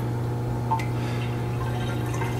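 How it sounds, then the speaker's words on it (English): Water trickles and drips into an aquarium sump tank through a siphon, a soft gurgling flow over a steady low pump hum, with a single brief plop near the start. "Water's filling the tank."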